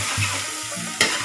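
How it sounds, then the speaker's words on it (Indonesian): Food stir-frying in a pan with a soft continuous sizzle, a couple of utensil scrapes and a sharper clack near the end, brief and close. "sekarang kita tumis sampai warnanya berubah"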